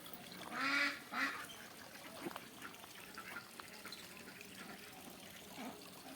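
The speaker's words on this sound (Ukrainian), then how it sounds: "Качки теж купаються, снідають" A couple of duck quacks sound close by, followed by soft splashing and dabbling in water against a quiet outdoor background.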